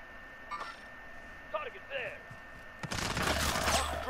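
Call of Duty Warzone gunfire: after faint game sounds and brief chatter, a sudden loud burst of rapid shots erupts and keeps rattling to the end.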